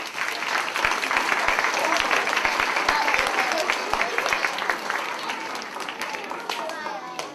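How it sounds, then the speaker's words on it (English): Second-grade pupils and staff at a school academic assembly clap in a lively burst of many small hands, loud and close, gradually thinning toward the end, with children's voices chattering underneath. "We also need to give a round of applause to our friends who got their Leaves from the Forest of Virtue."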